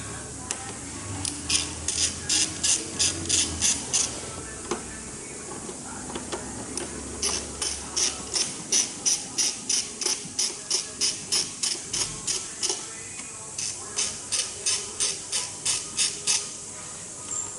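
A ratchet loosens bolts on a Fiat Abarth air intake, quick runs of sharp metallic clicks in bursts of about a dozen, repeated several times close up over a faint background hum.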